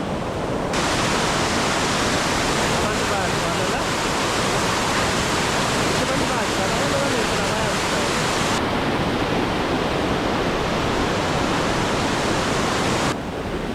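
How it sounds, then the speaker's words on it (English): A man-made waterfall at Silwane Nature Reserve in Bulawayo pours with a loud, steady, broadband rush of falling water that holds constant throughout, close and unbroken. "So they had water coming there all season, and then they decided to have this waterfall."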